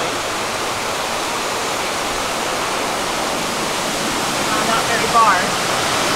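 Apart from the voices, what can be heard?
river flowing in the mountains of Japan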